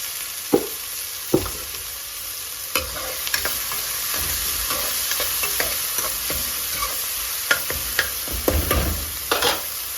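Chopped onions fry with salt in a pan, giving a steady, close sizzle broken by scraping stirs and a few sharp knocks of the spoon.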